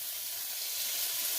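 A chaffle of hamburger, onions and mozzarella cooks in a Dash Mini chaffle maker, giving a steady, quiet, high hiss of sizzling with no talk.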